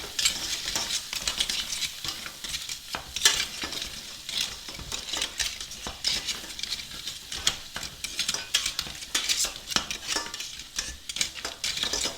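Linguine in red clam sauce with chopped parsley being stirred and tossed in a pan, a steady busy clatter of utensil against cookware over a soft sizzle, close and continuous with no talking.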